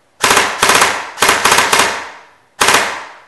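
An airsoft gun fitted with a JLS RX4 gearbox upgrade and a torque motor fires several loud, rapid full-auto bursts in close succession, with short pauses between them and no talking.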